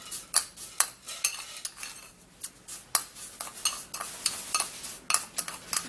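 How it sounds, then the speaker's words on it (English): A spoon clinks and scrapes against a bowl while rose water and banana are mixed together, giving a close, irregular series of sharp taps and stirring strokes with no talking. "So I'm gonna be taking 1 tablespoon of rose water into the bowl, and we're gonna be mixing it together first"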